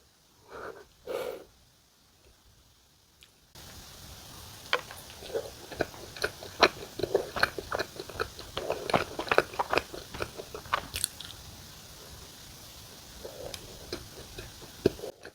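Thick buttered bread being bitten and chewed up close, with a few soft sounds first, then a run of irregular crisp crunches and chewing noises that taper off.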